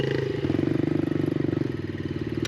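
Yamaha TTR125 motorcycle engine running steadily at close range, a loud, evenly pulsing single-cylinder throb with slight throttle swells and clatter throughout, no talk.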